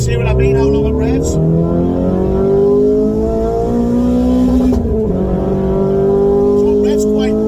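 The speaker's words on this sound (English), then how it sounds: "So I'll hold second gear, and you'll see what I mean, how long it revs." A Renault Clio 200 track car engine revs out while held in second gear, a loud, sustained climbing drone with a brief dip mid-run, heard from inside the car with talk over it.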